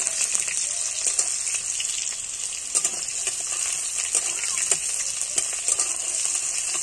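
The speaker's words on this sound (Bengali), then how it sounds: "এবার ফোড়নটা ভালো করে ভেজে নিয়ে পেঁয়াজ কুচি দিয়ে দিলাম। পেঁয়াজটা ভালো করে ভেজে নেব।" Chopped onion fries in mustard oil with a steady, close sizzle, broken by scattered clicks and scrapes of stirring in the pan.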